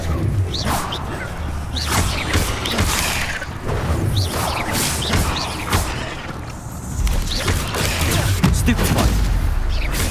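Expelliarmus and other combat spells cast in Hogwarts Legacy on PC, a loud, dense stream of magical whooshes, blasts and crashing impacts that barely lets up, with no voices.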